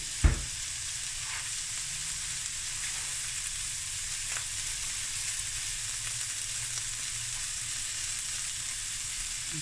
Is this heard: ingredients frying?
yes